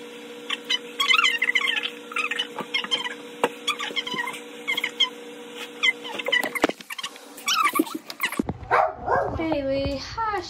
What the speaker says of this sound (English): She's a schnauzer terrier.